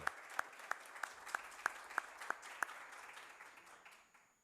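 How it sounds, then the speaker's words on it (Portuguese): A few hands clap at a public hearing in the São Paulo state legislative assembly, a sparse run of about eight evenly spaced claps, faint and thin, fading out toward the end. "peço uma salva de palmas"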